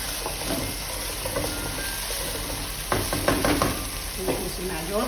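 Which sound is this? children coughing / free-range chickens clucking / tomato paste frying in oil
tomato paste frying in oil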